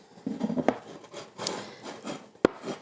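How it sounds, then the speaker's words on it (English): Butter is rubbed by hand around a pie pan for a pigeon pie, giving soft, close rubbing and scraping noises with a couple of sharp knocks against the pan. "I'll just quickly rub the butter around here."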